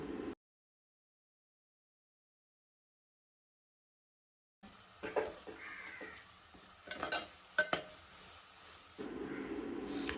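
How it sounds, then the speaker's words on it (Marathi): Chopped tomato tipped into onions frying in a pan for a dried mandeli fish curry, starting after a silent gap with soft sizzling, stirring scrapes and a few clinks of the utensil against the pan, fairly quiet. "कांदा लालसा झाल्यानंतर त्यामध्ये एक बारीक चिरलेला टॅमॅटो टाकून द्यायचा आहे"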